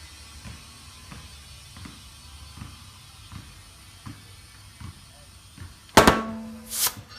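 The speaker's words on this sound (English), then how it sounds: "It's gonna pop twice." On a street motorcycle's front tire being inflated by hand after a tire change, the bead snaps onto the rim with a sudden loud pop, followed closely by a second, softer pop. A faint, regular ticking comes before them.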